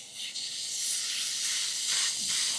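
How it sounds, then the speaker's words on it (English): A ribeye steak sizzles on a hot Skottel griddle, a loud, bright, continuous hiss that surges a little near the end, with no voices over it. "That's a sizzling."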